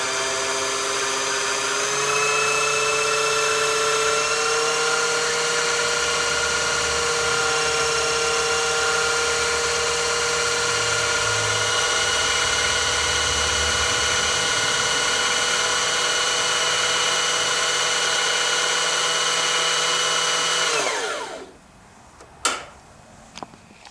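A Janome HD3000 sewing machine stitches steadily at speed, a continuous whirring hum with a high mechanical whine that stops abruptly near the end, followed by a couple of small clicks.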